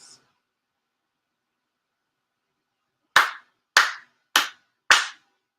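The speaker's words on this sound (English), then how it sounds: "4 sincere claps." Four sharp hand claps ring out in a steady, evenly spaced sequence after a long stretch of silence, close and crisp, performed as a ritual during an appreciation prayer service.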